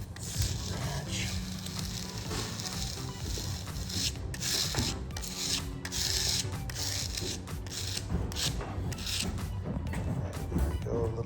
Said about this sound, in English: There we go, a little bit of scratching.